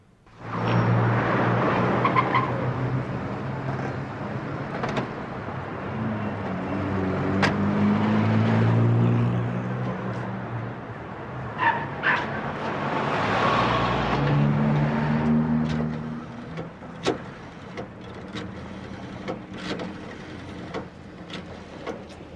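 A car engine in a 1978 crime drama revs and pulls away, a loud rumbling drone that swells and fades over about twenty seconds with a few knocks and clicks near the end.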